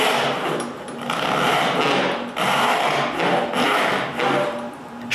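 A hand saw cuts dovetails in wood in a woodworking shop, with steady back-and-forth rasping strokes, close and fairly loud, separated by brief pauses between cuts.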